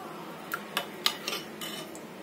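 A spoon clinks against a vessel a handful of times while sugar is stirred into panchamrut, light metallic taps at close range over a quiet room hiss.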